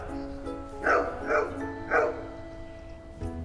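Dogs at an animal shelter bark in three or four short, moderately loud bursts with tonal whining between them, heard nearby against a low background hum.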